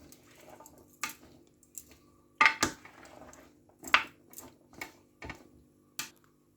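A Mediterranean chickpea salad being tossed with salt, producing a string of sharp clinks and light taps of utensils against a bowl at an uneven pace, close and moderately loud.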